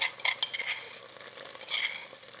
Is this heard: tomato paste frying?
yes